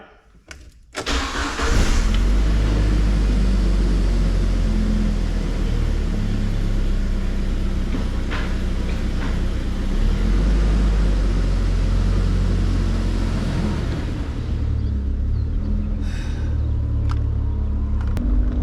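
Jeep Wrangler engine starting and then running steadily under way, a continuous low rumble heard from inside the cabin, with brief clicks and knocks near the end.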